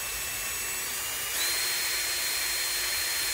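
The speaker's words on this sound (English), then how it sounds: "We're going to drill a little hole, a little 1/8 inch hole to the plastic." A small 1/8-inch bit drills into a plastic Coke bottle, a thin high-pitched whine that steps up in intensity partway through, close and fairly faint with no speech.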